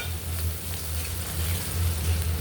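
Spices sizzle and fry in a pan as green chili, salt, turmeric and ground coriander are stirred together, a steady close hiss with a low bubbling hum and no talk.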